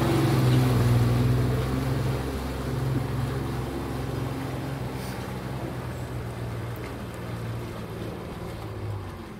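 A jet ski's engine runs at low throttle while docking, a steady nearby motor drone with gentle swells in power and water noise, no talking.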